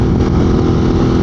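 A 2022 Ducati Monster motorcycle engine pulls steadily under throttle, a loud, dense, continuous roar held close by without a break.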